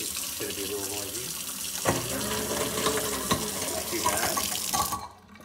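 Water runs steadily from a kitchen faucet into a sink, splashing and gurgling, then cuts off abruptly at the end.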